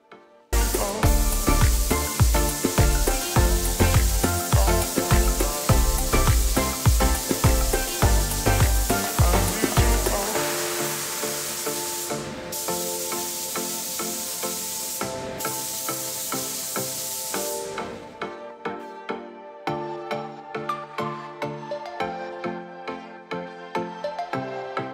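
Steady spray gun hiss laying epoxy primer onto a 1971 Camaro, continuous and close for long stretches, broken by a couple of brief pauses, with rhythmic tapping and clicking running underneath.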